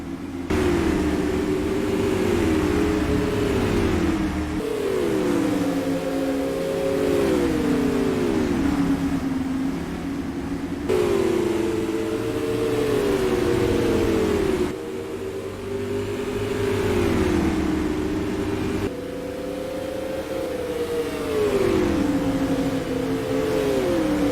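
Supermodified race cars roaring around a 5/8-mile oval at IRP, a continuous loud engine drone with repeated rising and falling pitch sweeps as cars pass in waves, no talk.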